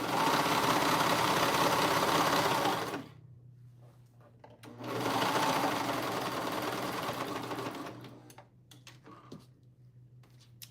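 A domestic sewing machine runs in two steady, loud bursts of stitching. Between and after the runs there are short pauses filled with clicks and small handling knocks.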